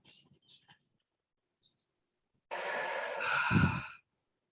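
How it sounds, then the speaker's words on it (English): A slow, deep breath drawn in and let out during a guided energy-clearing meditation, a long soft airy rush that swells near the end, heard close and alone after a few faint clicks. "Take a deep breath in and out."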